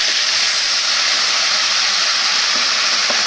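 Ground spice paste spatters in a hot pan of oil and tomato for a chickpea curry, a loud, dense, unbroken hissing sizzle that stays steady throughout and is heard alone.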